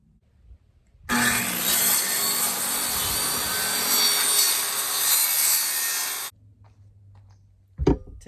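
A saw cuts through a sheet of plywood in a van conversion, a loud, steady rasping whine lasting about five seconds before stopping abruptly, followed by near silence and a short knock.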